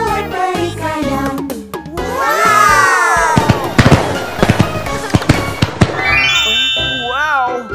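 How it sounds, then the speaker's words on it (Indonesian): Cartoon fireworks drawn by a crayon fairy in a children's animation whistle up and burst in a string of crackling pops and bangs, layered with music and playful cartoon sound effects. "Kembang api dibuat oleh peri krayon."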